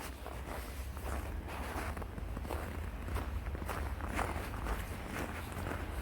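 Footsteps crunch over snow beside a frozen stream with thin ice and water still flowing in sub-zero winter weather. The steps are steady and close but quiet, with faint wind behind them.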